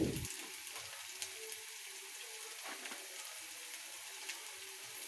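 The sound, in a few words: ginger, garlic and cashew paste frying for chicken biryani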